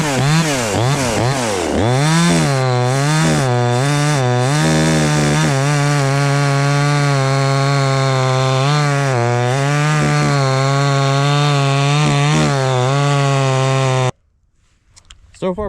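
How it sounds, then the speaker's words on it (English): A budget chainsaw cutting wood, its engine roaring loud and close for a long stretch, the pitch rising and dipping as it bites into the log, then cutting off suddenly near the end. "So let's do some more cuts with it."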